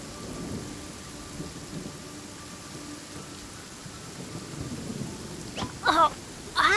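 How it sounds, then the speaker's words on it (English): Stormy weather in the Genshin Impact video game: steady rain and low rumbling thunder fill the background, with brief bright electric crackles of lightning striking near the end. "Don't stand too close to me, or you might get hit by lightning too."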